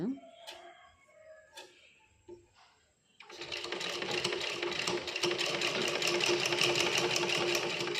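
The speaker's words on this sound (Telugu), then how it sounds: "బక్రంకి అంచుని పడాలండి స్టిచ్" A sewing machine stitches along the buckram edge of a blouse, starting after a few seconds of scattered handling noises and then running as a steady, close, rapid mechanical whir that continues to the end.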